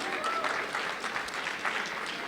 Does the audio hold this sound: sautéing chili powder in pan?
no